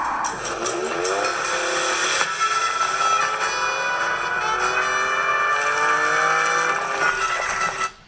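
A 2021 Ford Bronco six-cylinder EcoBoost engine, 2.7 or 3.5 litre, revs hard and steadily for about eight seconds, a loud close rising and sustained whine with rasping harmonics before cutting off abruptly.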